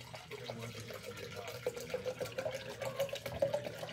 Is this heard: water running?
yes